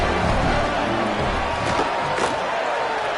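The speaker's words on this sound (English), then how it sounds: "Listen to the crowd." A football stadium crowd roaring after a touchdown in a championship game, a dense, loud and continuous wash of cheering with a commentator's voice woven through.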